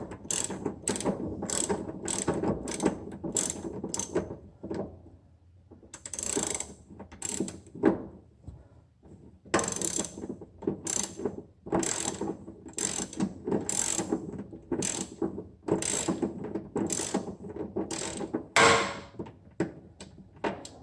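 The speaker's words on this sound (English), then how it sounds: "Use your 19 deep socket." Rapid bursts of ratchet clicking as a 19 mm deep socket turns a bolt on an Infiniti Q50/Q60 subframe, close and crisp, in a dozen or so quick runs separated by short pauses.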